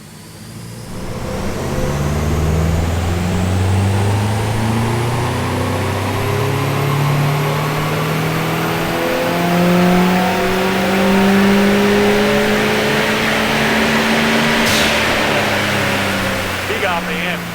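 A 4DMILF car engine revs hard on a dyno, a loud, close, sustained roar whose rising and falling pitch sweeps through gears for over fifteen seconds, with voices faintly under it.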